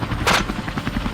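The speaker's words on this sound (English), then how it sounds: "Gunfire erupted in rapid bursts." A low-flying helicopter on a wild boar hunt throbs with rhythmic rotor chop, while a short burst of gunfire cracks over it near the start.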